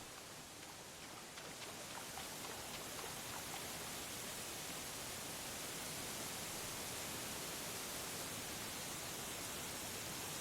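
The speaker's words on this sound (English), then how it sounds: "And you can really hear the waterfall" A distant waterfall in Black Myth: Wukong gives a broad, steady rushing roar like constant noise, fairly quiet and unchanging across the whole stretch, with no voices over it.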